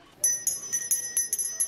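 Handheld Salvation Army-style bells ring at a bell factory, a rapid series of bright metallic clangs with sustained ringing tones, fairly quiet and close, with faint voices beneath.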